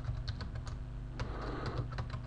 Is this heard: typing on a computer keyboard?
yes